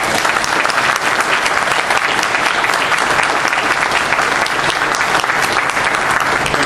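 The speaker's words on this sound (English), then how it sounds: "A round of applause for all three of these gentlemen." Loud, close, continuous applause from a debate audience for three Libertarian Party presidential candidates, a thick steady wash of clapping without pause.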